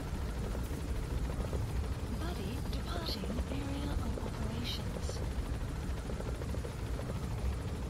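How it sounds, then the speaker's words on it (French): A helicopter in Metal Gear Solid 5 gives a continuous rotor drone throughout, steady and moderately distant, with game noises and a voice faintly mixed in. "Il voit l'hélico, il tire dessus."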